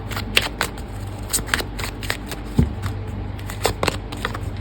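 Tarot cards are shuffled by hand, close and clear, with a steady run of crisp riffles and soft card slaps over a low background hum.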